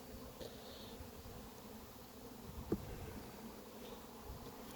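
A honey bee colony hums with a low, steady buzz from frames of honey in a deep hive box, continuous and fairly faint throughout.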